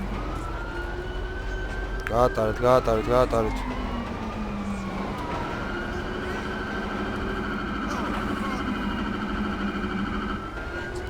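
A wailing ambulance siren in Grand Theft Auto V sweeps up and down over engine drone, with a quick warbling burst early on; someone speaks briefly amid steady background hum.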